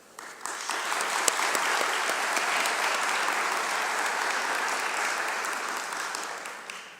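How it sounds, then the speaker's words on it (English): An audience at a medical school White Coat Ceremony gives a warm round of applause, a broad, steady roar of clapping that swells in, holds evenly for several seconds and tapers at the end. "Please join me in a warm round of applause for these individuals"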